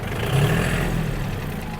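A Yanmar US-31D mini tractor engine pulling away in first gear, a steady close diesel drone that swells slightly as the clutch engages and then holds an even low rumble.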